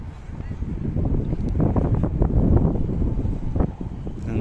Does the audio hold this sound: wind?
yes